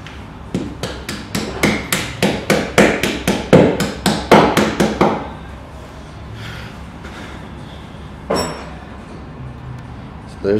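A smooth face hammer taps the corners of a Mt. Shasta extended pioneer series tent in a quick run of about fifteen sharp metallic knocks, close and loud, then falls quiet with faint handling noise after.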